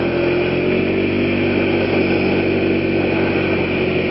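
A motorcycle engine idles steadily while warming up on a cold morning, a constant, close, even mechanical drone with a low rumbling pulse and no speech over it.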